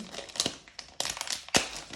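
Plastic crinkles and rustles in several sharp bursts as a bag is pulled and worked open, close by with short gaps between.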